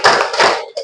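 A classroom group claps hands together in a short counted pattern, several sharp near claps in quick succession ending in a brief final pair.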